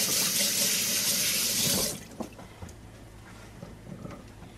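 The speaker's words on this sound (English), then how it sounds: "Wash my hands real quick." A running kitchen tap pours water loudly for about two seconds while hands are washed beneath it, then cuts off, leaving a quiet room with a few faint clinks and drips.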